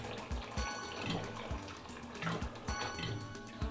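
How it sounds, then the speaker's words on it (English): Lukewarm water runs from a kitchen tap into a measuring cup for homemade bagel dough, a continuous close splashing stream with small irregular thumps and gurgles. "we need to get 1 1/4 cup of lukewarm water."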